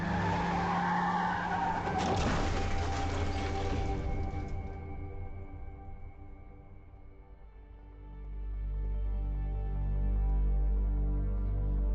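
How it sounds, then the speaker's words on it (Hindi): A car skids in a road accident, with a loud tire squeal over engine noise for several seconds that then fades, followed by a low heavy rumble as the vehicle overturns. "यहाँ दुर्घटना हो गई है। एक गाड़ी उल्टी हो गई है।"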